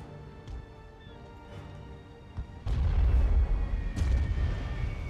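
Naval cannon fire in The Great War Mod, a World War I video game: a few distant thuds first, then a heavy boom sets off a sustained low rumble of barrage with another blast near the end.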